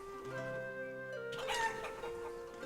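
Chickens clucking in the farming village game Life is Feudal Forest Village, a short bout of steady, mid-level fowl calls with a rooster-like cry, alone with no talk.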